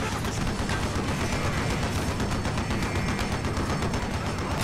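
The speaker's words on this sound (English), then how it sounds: "Guys, they're shooting" Continuous dense gunfire in Call of Duty: Black Ops, a steady wall of rapid overlapping shots and bursts with no pauses, loud and close throughout.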